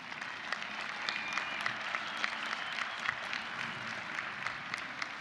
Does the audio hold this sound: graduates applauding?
yes